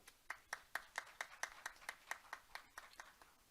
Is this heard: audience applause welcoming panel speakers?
yes